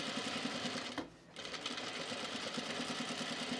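A sewing machine runs steadily and close while stitching a blazer seam, with a brief pause after the first second before the stitching resumes.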